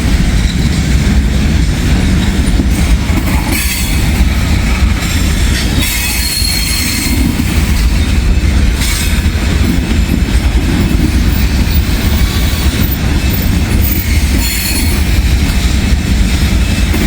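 A train rolls past on a former B&O or Pennsylvania Railroad line, a loud close rumble of railcars with squealing wheels and clacking joints that runs steadily throughout, with no voices.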